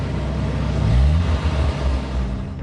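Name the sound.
car engine revving with accelerator floored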